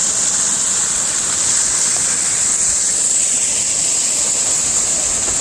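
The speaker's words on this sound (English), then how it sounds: "Waterfall goes right over the top, right there." Steady, dense roar of a waterfall pouring over a coastal bluff at Point Reyes National Seashore, loud and unbroken, heard close without voices.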